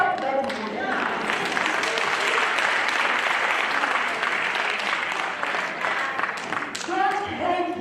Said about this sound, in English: Clap your hands, support that woman.